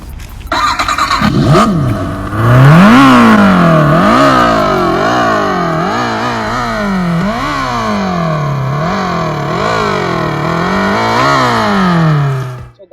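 An Odessy Evoqis electric motorcycle's hub motor whines loudly up close, its pitch repeatedly climbing and dropping in a steady cycle of revs.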